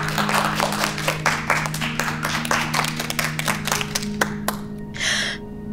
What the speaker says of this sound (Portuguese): Vamos dar uma salva de palmas para eles.